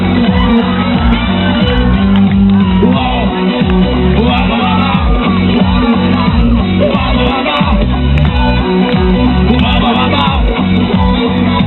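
A concert crowd shouts and yells loudly and without a break at a live show in a bar. The dense, clipped roar of many voices runs the whole length over pounding music.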